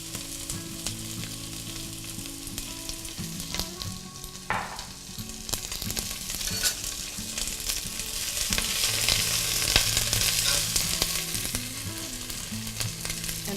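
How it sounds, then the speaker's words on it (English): Onion sautés in a little olive oil in a pot for cauliflower soup, giving a steady, fairly soft sizzle and crackle throughout, with occasional stirring clicks and a faint background hum. "Then I'm just going to start sauteing the onion."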